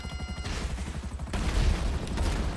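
Rapid bursts of gunfire in the video game GTA 5 Online, dense and continuous with heavy low booms, growing louder midway with music or engine rumble underneath.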